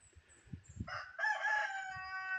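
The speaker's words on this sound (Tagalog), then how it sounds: "Ayan aking mga manok." A rooster crows loudly and close by on a farm, one long drawn-out call, after a few soft clucks from nearby chickens.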